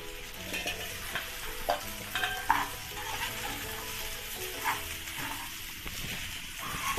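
Sago pearls (sabudana) sautéed with cooked potato in a pan: a steady soft sizzle with repeated scraping stir strokes throughout, close and moderately quiet, no voices.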